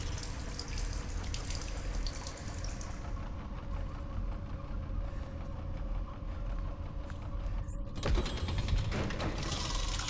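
A sink runs with water in the video game Stasis, a steady, continuous splashing stream close up with faint mechanical clatter, and no voices over it.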